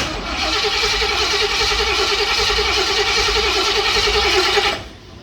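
A car engine cranks steadily for nearly five seconds without firing because no fuel is reaching the squirters, a loud, continuous churning starter rhythm that cuts off abruptly near the end.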